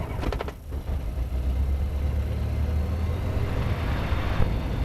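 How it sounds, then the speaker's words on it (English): The engine of a C42 microlight aircraft runs with a steady low droning rumble that continues throughout, fairly close and alone. "Pull out the choke and start the engine."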